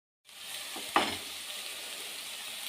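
Chopped medium-sized onion sizzling steadily in hot oil for an egg masala, with a sharp burst as it hits the pan near the start, then a constant close hiss.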